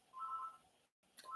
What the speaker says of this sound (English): The phone. It's interrupting my flow of thought.